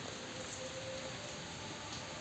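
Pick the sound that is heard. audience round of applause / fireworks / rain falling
rain falling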